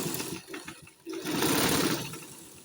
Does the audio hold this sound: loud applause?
no